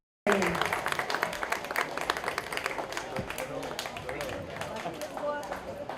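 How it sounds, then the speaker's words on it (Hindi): Applause erupts at a school event for special children, sharp and sustained clapping that starts abruptly and continues steadily, with some voices mixed in. "तो जोरदार तालियां हर दर्जी modern school and Aditya Mohite."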